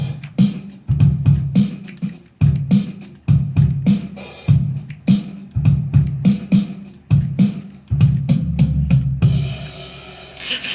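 Electronic drum beats from the Glide instrument played in drum mode, a punchy rhythmic groove of deep kicks and sharp hits repeating in steady patterns, loud and close, ending in a washy fade.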